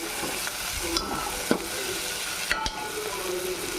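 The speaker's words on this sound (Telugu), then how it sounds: "దాంట్లోకి అల్లం వెల్లుల్లి పేస్ట్ వేసుకుందాం. ఫ్రెష్గా వేసానండి, అది కూడా తిప్పేసుకుందాం." Ginger garlic paste sizzles steadily in hot oil with a broadband hiss, broken by a few sharp spoon scrapes and taps against the pan as it is stirred; no talking.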